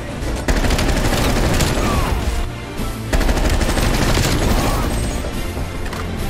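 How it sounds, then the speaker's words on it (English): Groza assault rifle fire in Call of Duty Black Ops Cold War: two sustained, loud bursts of full-auto gunfire, briefly broken near the middle, with dense game combat noise throughout. "that right there is the new Groza in Call of Duty Black Ops Cold War. Dude, this gun is nasty"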